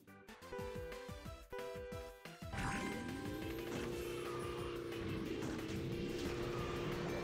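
Game motorcycle engine from KartRider Rush+ revving up and holding a steady high drone after a burst of clattery impacts, loud and continuous with no talk.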